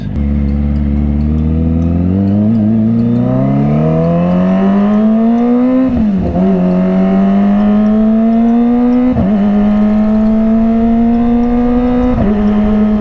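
A Kawasaki ZX25R four-cylinder motorcycle on a road ride, its engine note loud and close, climbing steadily in pitch with brief dips at gear shifts, a continuous high-revving whine throughout.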